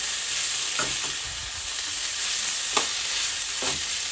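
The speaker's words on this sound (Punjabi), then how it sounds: "ਬਟ ਮੈਂ ਇਹਦੇ ਵਿੱਚ ਐਵੇਂ ਹੀ ਟਮਾਟਰ ਐਡ ਕਰੂੰਗੀ" Tomatoes sizzling in a hot pan for paneer bhurji, a constant loud fry hiss broken by a few scraping stirs of a spoon.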